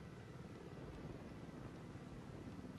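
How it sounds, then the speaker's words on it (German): Helicopter approaching in the tactical shooter Ghost Recon Wildlands, a faint, steady rotor drone holding low throughout with no talk over it. "Da nähert sich ein Helikopter."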